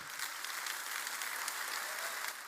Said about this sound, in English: there's the Republican Party participants clapping along